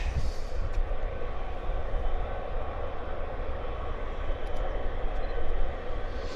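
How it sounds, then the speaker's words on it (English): Small airplanes taxi and run up at Vancouver Airport, producing a loud, continuous engine roar and rumble that holds steady throughout with no voices over it. "They're sending out the little airplanes first."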